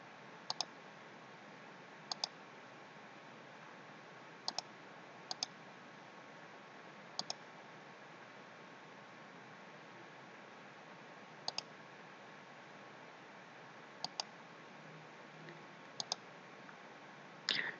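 Computer mouse clicked to pick images, about a dozen sharp single and double clicks spaced irregularly over faint steady background hiss, quiet and close, with no talking.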